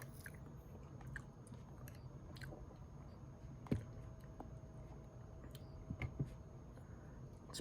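Someone eating Casa de Oro tortilla chips, crisp crunching bites and chewing up close, with a few sharper crunches among steady quiet mastication, no talking.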